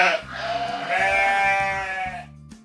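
A sheep bleats in a long, wavering, close call, loud and alone, followed by a short quieter sound at the end.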